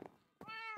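A game cat in SkinCraft lets out a drawn-out meow after a short muffled sound, heard quietly and close with no other voices.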